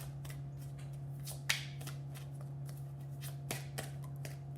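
Tarot cards being shuffled close by in soft, quick riffles with a few sharper snaps, over a steady low electrical hum, fairly quiet and without talking.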